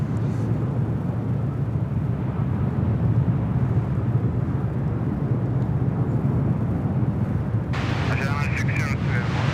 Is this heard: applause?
no